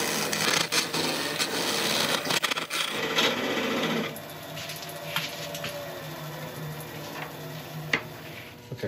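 A woodturning lathe tool rasps against a spinning blank of resin and wood while cutting a tenon on its base, a steady scraping hiss that eases to lighter intermittent cuts with a faint high whine.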